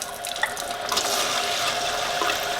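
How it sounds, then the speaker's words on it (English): Kangen water pours steadily into a cup, a continuous bright splashing hiss of liquid filling throughout, fairly close and with no voices. "Gonna get another cup, get some more Kangen water."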